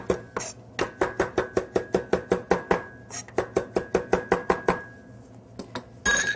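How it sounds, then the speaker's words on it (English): A knife chops fresh cilantro and parsley on a board for a stew: about two dozen rapid, evenly spaced close thuds, with a short pause and a few final strikes, no voices. "It doesn't have to be perfectly finely chopped."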